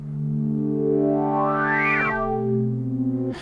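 A synth tone with its filter resonance rising over time, a sustained harmonic chord whose resonant peak sweeps upward into a whistling squeal before dropping back, then holding steady and cutting off.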